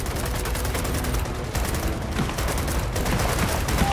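Rapid gunfire in the video game Gears of War 4, dense bursts of shots crackling continuously, loud and close for the whole stretch.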